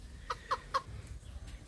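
A Garnizé bantam chicken gives three quick, clear clucks in a row, close but soft, over a low background rumble, then falls quiet.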